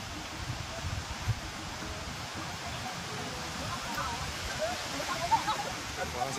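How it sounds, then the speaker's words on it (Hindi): Waterfall at a hill station near Kampot, a faint, steady wash of falling water heard from a distance, continuous and even with a few small bursts of splashing. "So the waterfall is the site."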